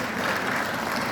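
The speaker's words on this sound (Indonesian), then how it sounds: "Tepuk tangan buat kita." A graduation ceremony audience claps in dense, steady applause throughout, loud and continuous, with no break.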